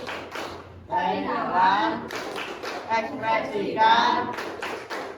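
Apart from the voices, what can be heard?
group clapping game 'tepuk emosi' rhythm claps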